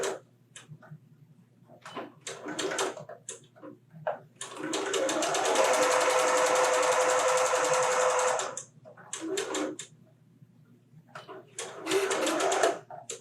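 Sewing machine stitching a background strip onto an arrowhead puzzle quilt square, with short bursts of stitching, then a long steady run of several seconds, then more short bursts, close and clear.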